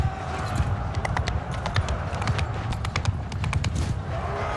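A horse gallops and jumps in the video game Mount & Blade II: Bannerlord, with rapid clip-clopping hoofbeats over a steady rumbling bed, continuous and fairly loud with no talking.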